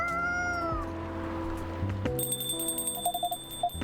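A cat meowing in the cafe video game Coffee Talk, a few short mews over a soft layer of sustained game music tones.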